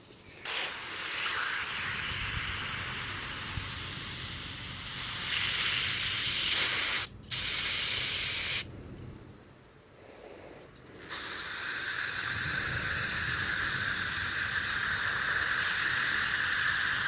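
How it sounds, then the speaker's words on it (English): Carb cleaner sprays in long, loud hissing bursts while cleaning out a removed part from an engine with a long crank time, with brief pauses between blasts and no talking. "just take you some carb cleaner and just blow it out real good."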